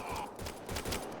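Rapid gunfire bursts in the Mass Effect Andromeda video game, a dense volley of shots packed into a brief, loud stretch with no pauses.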